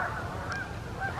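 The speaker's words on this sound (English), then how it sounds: "Oh, I see more geese." Geese honk in short bursts beside a lake on a day of autumn foliage in upstate New York, a few calls ringing over a steady outdoor hiss.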